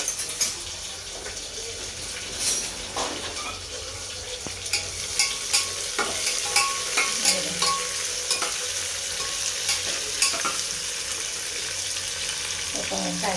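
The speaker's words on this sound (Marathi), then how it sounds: "तोपर्यंत कांदा टमाटो परतून घेते" Onion and tomato sautéing in a pan, a continuous close sizzle punctuated by repeated scraping and stirring strokes of a spoon, fairly loud with little else beneath it.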